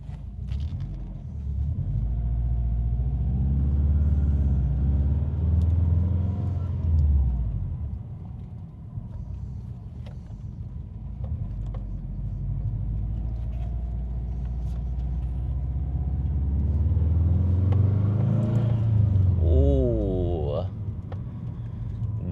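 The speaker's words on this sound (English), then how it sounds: "See if we can get some sick turbo noises in this one." A turbocharged manual car on a test drive, its engine rumbling close up and revving in rising surges, with a louder, climbing rev near the end.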